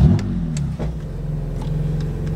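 A tuned BMW M2 Competition's engine settles into a deep, loud idle right after starting, a steady throbbing rumble close by with a few faint clicks over it.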